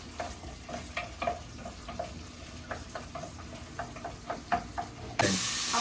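Rice sizzling and frying in a pan with spinach nearby, a spoon scraping and stirring in uneven clicks and scrapes over a low hiss, then a sudden louder burst of sizzle near the end.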